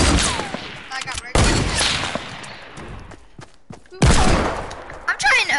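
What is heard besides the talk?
gunfire in a shooter video game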